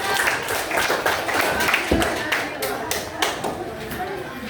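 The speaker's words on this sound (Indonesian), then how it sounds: "Tepuk tangan dulu untuk Gilang dan Azra." Fourth-grade students in a classroom clap together in quick, sharp bursts close by, with children's chatter mixed in throughout.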